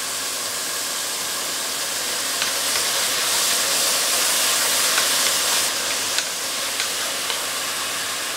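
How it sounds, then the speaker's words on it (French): Chopped garlic and shallots, about two or three small shallots, sizzle in a hot pan for a velouté de cèpes. A steady broadband hiss runs throughout, with a few faint clicks and pops, and no one speaks. "Je vais mettre mon ail et mes échalotes"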